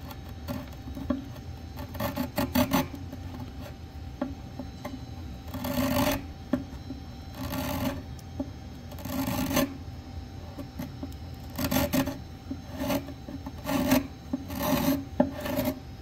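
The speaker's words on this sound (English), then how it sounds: "start removing that finish on this dark brown part just by scraping it" Hand scraping strips dark brown finish from an antique wooden desk, producing repeated raspy scrapes in short bursts with pauses between, close and moderately loud, without any talk.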